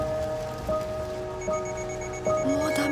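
A sudden torrential downpour drums steadily and loudly on a surface, with a few faint tonal chimes and sweeps running through it.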